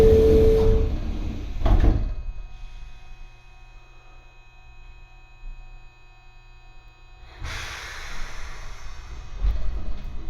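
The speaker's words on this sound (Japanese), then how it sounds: "ドアが閉まります。" On a Sunzu Line train bound for Shuzenji, sliding doors close with a thud after a chime, then the carriage settles into a quiet hum before rumbling louder as the train moves off, with no talking.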